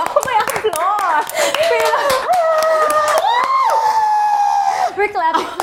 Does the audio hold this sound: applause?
yes